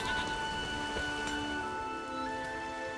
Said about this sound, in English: There's no point standing here in the rain.